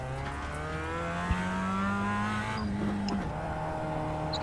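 A Mazda MX-5 Cup race car in iRacing at Summit Point Raceway drones through the gears, its engine whine holding steady, shifting pitch midway, under faint tire noise.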